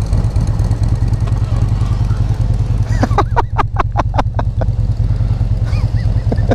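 A 2017 Harley-Davidson Freewheeler trike idles loud and close with a steady low throb, while a rapid series of sharp clicks rises above it midway as reverse is engaged.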